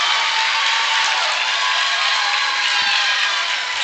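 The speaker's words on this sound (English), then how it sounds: "Emporia crowd is livid." A high school basketball crowd in Emporia roars in loud, sustained, angry protest at a charging call, the dense wash of voices and shouting unbroken from start to finish.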